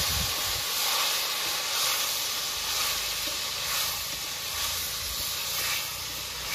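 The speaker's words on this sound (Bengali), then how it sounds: "হালকা একটু জল দিয়ে কষাবো, নাহলে পুড়ে উঠবে।" Spice paste sizzles loudly and hisses with steam after a little water is poured into the hot pan while cooking a rohu fish and taro curry, a continuous close sizzle with occasional stirring and no talking.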